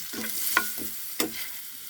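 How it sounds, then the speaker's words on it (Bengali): Fish and potato pieces frying in a pan with a pinch of turmeric, giving a soft steady sizzle. Two sharp stirring scrapes stand out briefly, and no voices are heard. "মাছগুলো আমি ভেজে নিচ্ছি। আলুটা ভেজে নিচ্ছি"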